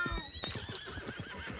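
A horse in the video game Red Dead Redemption 2 gives a loud close whinny, then a shaky fluttering neigh with a brief clatter of hooves underneath.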